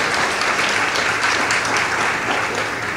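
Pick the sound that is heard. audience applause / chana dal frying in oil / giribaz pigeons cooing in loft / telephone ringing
audience applause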